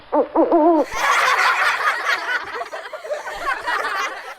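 A voice imitates an owl with a few quick hoots, and a burst of chuckling and laughter follows right after.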